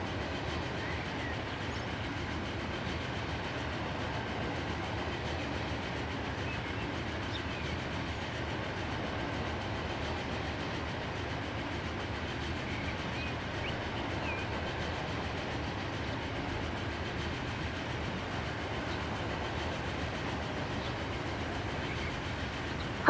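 Train passing through a station in the video game Transport Fever 2, a steady, even rumble with faint clickety-clack of wheels running throughout, with no voices.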